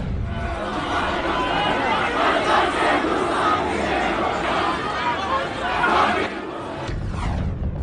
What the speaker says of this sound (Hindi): सब उसके नाम के नारे लगा रहे थे।